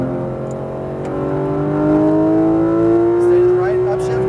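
Porsche GT3 RS engine on a race track, revving up under throttle with a rising, steady drone heard from inside the car; an instructor talks over it.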